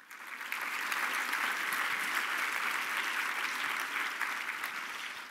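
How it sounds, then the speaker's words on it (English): Sustained applause from a crowd in a Microsoft Super Bowl ad, a dense, even wash of clapping that swells in and holds steady before tapering slightly at the end. "I love this clapping."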